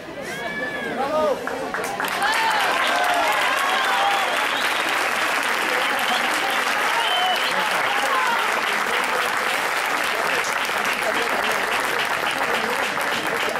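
Sustained loud applause from an audience at a course closing ceremony for a band conducting course, steady clapping throughout with voices and shouts mixed in, starting with some speech before the crowd erupts.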